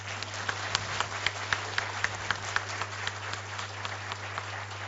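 An audience applauds Team ESSCI at the company's 10th Foundation Day event, with steady massed clapping marked by a few sharper individual claps, heard at moderate volume without speech.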